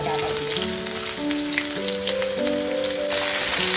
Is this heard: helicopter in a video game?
no